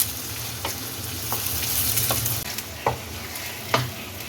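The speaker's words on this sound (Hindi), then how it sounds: "एक बड़ा प्याज जिसकी मैंने स्लाइस में कटिंग की है वो डाल दें। तो प्याज को इसमें फ्राई कर लें।" Sliced onion frying in hot oil in a frying pan, a steady soft sizzle with a few scraping stirs, close up and with no talking.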